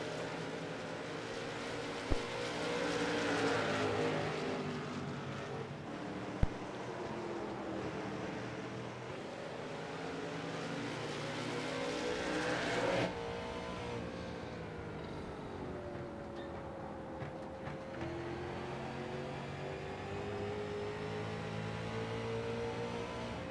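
Sim racing cars on the New Smyrna short track, heard as a steady engine drone that rises and falls with shifting pitch for the whole stretch, fairly constant in loudness with a couple of sharp bumps.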